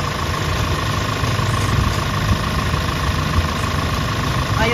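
A 2010 Hyundai Starex VGT engine idles smoothly, a steady close, loud rumble with even low vibration and no other sounds.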